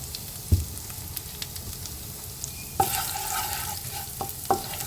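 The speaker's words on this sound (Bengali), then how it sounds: "আদাটা ভাজা হচ্ছে" Grated ginger frying in a pan, a close, steady sizzle punctuated by a few distinct utensil knocks and scrapes of stirring.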